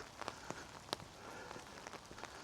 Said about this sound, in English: the rain pattering away on that.